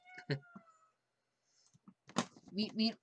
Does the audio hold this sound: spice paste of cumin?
no